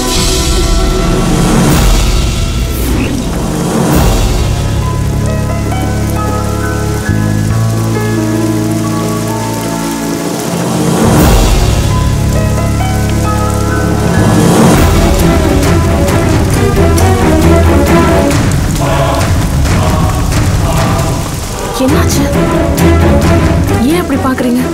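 Heavy rain pours steadily on a surface throughout a Tamil TV serial scene, loud and continuous under music and voices.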